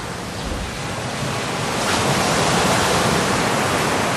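Surf washing onto the beach at Kinghorn Harbour, a steady broadband roar of breaking waves that swells slightly louder partway through, with no voices.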